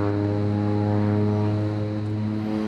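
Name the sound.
propeller plane flying around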